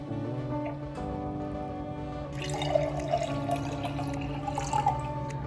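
Mango passion fruit and wheatgrass shrub with apple cider vinegar poured from a bottle into a glass, a steady liquid trickle with light splashing and drips that grow busier partway through, heard close and alone.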